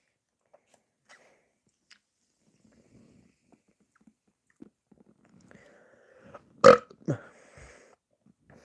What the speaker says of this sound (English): hopefully he doesn't burp like that